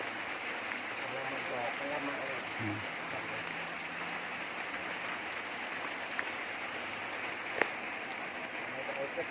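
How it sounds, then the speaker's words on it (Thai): Light rain falls steadily through a cool evening, a soft continuous hiss of drops with faint distant voices and a few brief knocks in the background. "ถ้าอากาศเย็นมีฝนตกโปรยปลายอย่างนี้"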